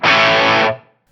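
Marshall Guv'nor distortion pedal with the treble turned fully down, a loud, dark, fuzzy distorted guitar chord ringing alone for under a second before cutting off and decaying into quiet.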